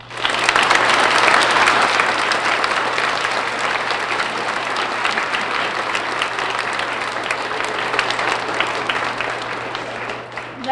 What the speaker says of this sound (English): Please join me in a round of applause in appreciation of our veterans.